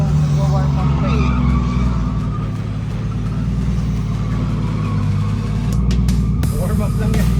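A drift car at an MG Square drift event warming up its tires, skidding with a loud sustained engine roar and tire squeal, with people talking nearby.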